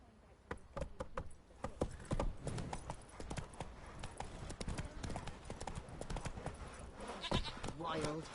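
Roach the horse's hooves in The Witcher 3: Wild Hunt, irregular clip-clop steps with jangling tack, heard under game sounds and a voice.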